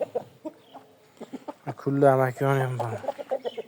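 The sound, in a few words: rooster clucking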